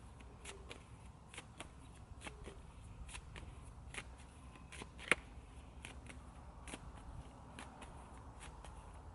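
A tarot deck being shuffled and cards drawn, heard as soft, quiet riffling and crisp card snaps at irregular intervals in a hushed room, with one sharper click midway.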